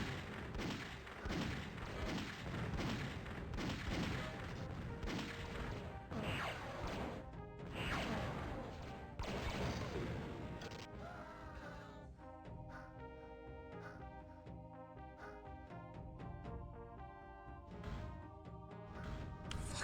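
Rapid, sharp gunfire cracks and crashing impacts from rooftop snipers in the video game Cybermage, dense and loud for several seconds, then thinning into sparser hits with sustained tonal game sounds.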